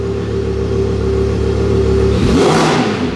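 A Nissan GT-R engine idles with a low steady hum, then revs up sharply into a loud, roaring burst close by.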